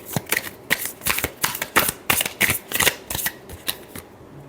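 Tarot cards are shuffled by hand in a close, brisk riffle of rapid papery flicks and slaps lasting a few seconds, with no voices over it.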